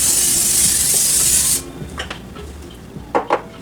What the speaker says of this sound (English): You also want to spray it down with a light coating of your cooking